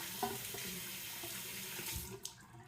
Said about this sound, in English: Let me rinse my hand off here.